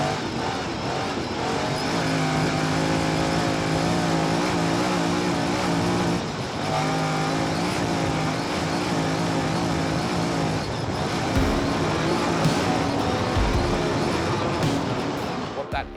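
Trophy truck engine at racing speed during the Finke desert race, a steady loud drone with sustained harmonic tones that dip briefly around the middle and near the end, continuous and close throughout.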